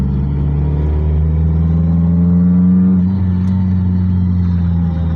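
A supercharged 2004 Ford Focus RS engine revs with rising harmonic tones and a deep rumble, loud and close, climbing briefly before easing back to a steady growl.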